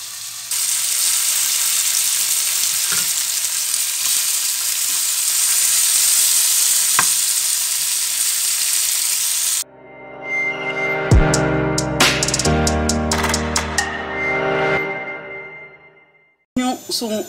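Whole onions for a grill garnish searing in a hot pan, first a loud steady broadband sizzle, then a sharp cut to rattling, clattering pan sounds with intermittent sizzle before fading out near the end.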